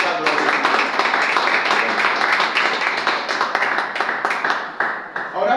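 A church congregation applauding together, with a dense run of sharp hand claps that carries on steadily at even loudness from start to finish.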